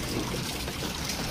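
Rainwater after heavy rain in Delhi trickling and dripping through a waterlogged roof, a steady close wash of running water with no talk.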